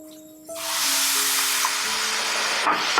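One cup of sugar with a third cup of water tipped into a preheated pan sets off a sudden steady sizzling hiss that holds for a few seconds, with soft tonal background music underneath.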